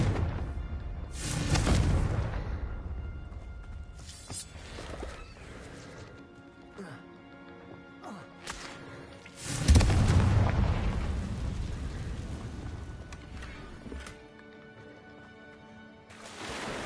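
Confringo spell blasts in Hogwarts Legacy, a few heavy booming explosions spaced apart with crackling debris and lingering rumble between them, loud and close.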